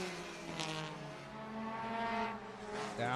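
Hornet-class race cars at Sunset Speedway Park, engines droning with shifting harmonic pitch as they bunch through turns, a steady, moderately distant roar with occasional tire squeal.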